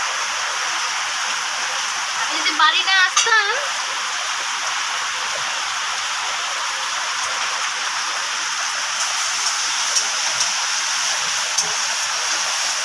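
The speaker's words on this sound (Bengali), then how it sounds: "কি বৃষ্টি হচ্ছে দেখো" Heavy rain falling in a steady, dense hiss that stays loud and unbroken throughout, with a brief stretch of speech near the start over it.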